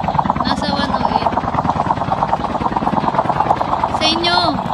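A helicopter in an online shooter video game drones steadily and loudly throughout, its rotor and engine noise continuous while players talk over it.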